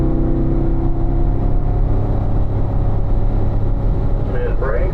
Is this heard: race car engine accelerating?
yes